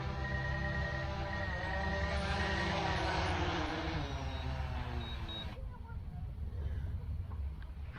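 A DJI Mavic Air 2 drone sets down on a landing pad. Its steady, buzzing rotor whine holds throughout, shifts in pitch as it descends, and softens toward the end, heard close by.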